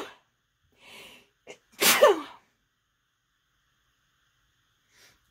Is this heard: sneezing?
yes